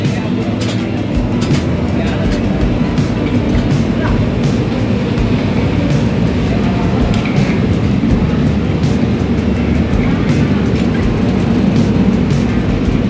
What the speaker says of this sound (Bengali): আমাদের ট্রেনটাও ছেড়ে দিল